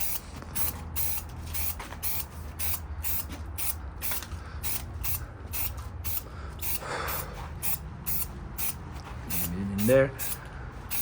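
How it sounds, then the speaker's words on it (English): Short hisses of spray paint mist onto a 2007 BMW 328i grille in quick repeated bursts, a light first coat, with faint handling clicks and creaks between sprays. "So here's the first coat. Super light, just misting it."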